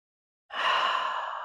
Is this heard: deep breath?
yes